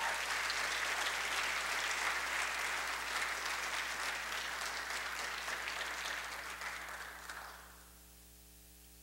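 A room full of people applauds as a woman is welcomed onto a stage, steady clapping filling most of the clip before tapering off near the end into a quiet hum.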